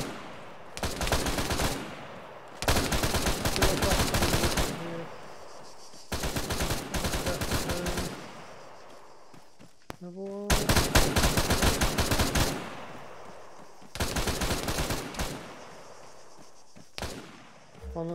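Arma 3 video game gunfire arrives in long, loud automatic bursts separated by short pauses, repeated about six times, with brief voices speaking in some of the gaps.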